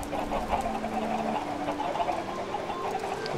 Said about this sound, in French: les sons désagréables, avec les poulets en plus